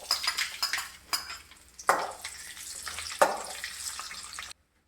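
Chopped ginger and garlic tipped into a hot pan of popped mustard seeds while making a Kerala chili pickle, with light utensil clatter followed by two sudden bursts of sizzling that fade away.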